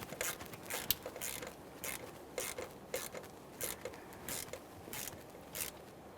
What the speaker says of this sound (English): Now we'll snug this up and then torque it to 8 foot-pounds.